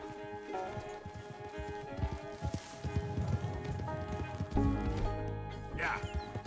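Rapid hoofbeats of a galloping horse in Red Dead Redemption 2 thud in a steady rhythm, with a whinny near the end over game music and faint speech.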